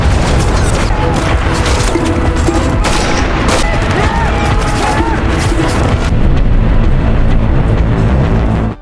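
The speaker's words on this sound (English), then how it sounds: "Caroline was awakened by the sound of artillery fire mixed with Forsberg's urging" Artillery fire in the war film Black Crab: a dense, continuous barrage of booms and gunfire rumbling loudly throughout, with no quiet gaps.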